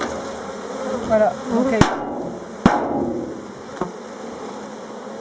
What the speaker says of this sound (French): on voit les abeilles, elles sont toutes vers la reine